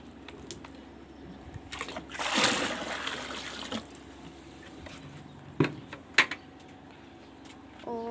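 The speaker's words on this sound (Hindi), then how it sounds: "और ये पानी अब मैं इसमें वापस डाल दूँगी," Water splashes and trickles as it is poured back into a container for buffaloes, a broad rushing burst in the middle followed by a few sharp splashes, fairly close at moderate loudness with no talk.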